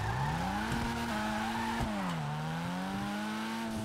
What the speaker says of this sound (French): La moto, elle tourne en rond. Ouais, elle tourne autour de nous, elle tourne en rond